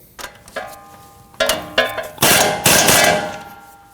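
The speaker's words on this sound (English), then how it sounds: "get our castle nut started on. We can snug that down." Ratchet working a castle nut onto a tie rod in the steering knuckle of a 2015-2022 Chevrolet Colorado truck, giving several close bursts of metallic clicking that grow louder and denser toward the end.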